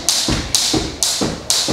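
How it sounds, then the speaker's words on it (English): A jump rope slaps the floor in a quick, even rhythm during a cardio workout, each crisp tap followed by a soft thud, four clear cycles close up with no voices. "we're gonna see if I can jump rope 50 seconds, two rounds,"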